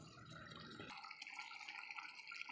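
Water is poured into a vegetable curry of steamed jackfruit and potato cooking with spices, a brief close splash and trickle over a steady background hiss, with no voices.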